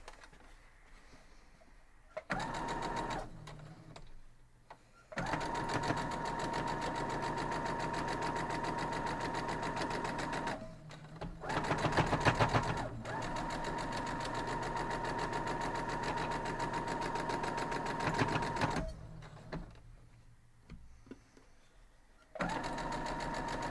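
A sewing machine stitches quilt block pieces in steady mechanical runs, its rapid needle chatter stopping and restarting several times with brief quiet gaps between bursts.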